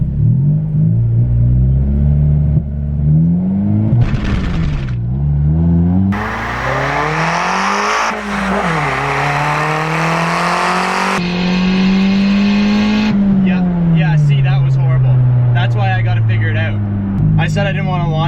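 A boosted Honda Civic EG hatchback launches and accelerates hard, its engine note climbing in repeated surges through the gears with brief dips at each shift, loud and close throughout.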